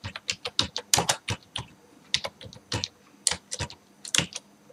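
Steady typing on a computer keyboard while annotating with the Xournal++ note-taking tool, a brisk run of crisp clicking keystrokes heard close up with no talk over it.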